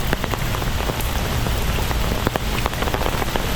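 Heavy rain pours steadily onto a Manila street, a dense, loud hiss with scattered sharper drops splattering close by, with no voices.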